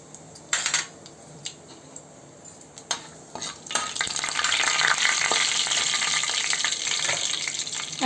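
Mustard seeds and cumin sizzle and crackle in hot oil in a kadai, a few sharp pops early on, then a steady bright frying hiss builds and holds loud to the end, no voices.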